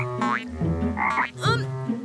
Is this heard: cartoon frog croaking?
yes